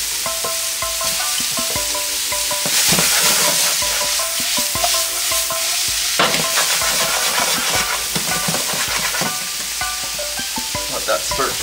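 Shrimp sizzle and fry in a hot pan while fish cooks alongside, a steady loud crackling hiss with bursts of spattering and occasional utensil clinks.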